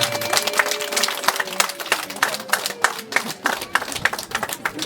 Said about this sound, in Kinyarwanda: Abageni bahagurutse bampera ababyeyi baba bana amashyi menshi cyane